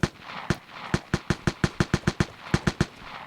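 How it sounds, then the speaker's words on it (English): Grease gun in the video game Vigor fired in rapid short bursts like a machine gun, about a dozen sharp loud shots in two quick clusters with a brief pause between them, no talking. "This guy is using his grease gun like it's a machine gun."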